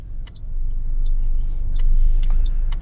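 A car engine rumbles low and steady while the car pulls out of a parking space at Greenslopes test centre car park, a few faint clicks ticking over the drone.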